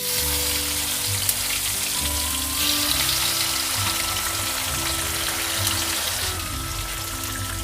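Mustard seeds spluttering in hot mustard oil in a pan while a fish curry is cooked, giving a steady close sizzle with crackling pops and a faint background hum.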